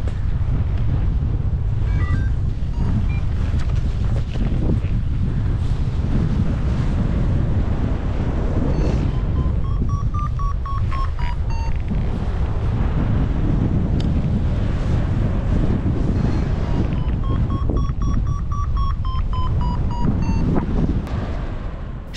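Strong wind buffets a microphone during a paragliding flight at Maginhrad, Slovakia, a loud, continuous roar. Short runs of high electronic beeps rise and fall through the rumble twice.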